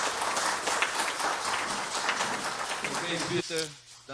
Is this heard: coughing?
no